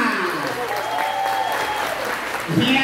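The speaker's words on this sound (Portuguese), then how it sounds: "Vamos aplaudir o Pará." Audience applause at a live Brazilian stand-up comedy show, steady clapping throughout that swells louder near the end, with a voice speaking over it.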